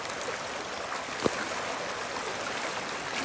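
At Muthyam Dhara waterfall, water rushes in a steady broadband hiss, loud and constant, with one brief knock partway through and no voices.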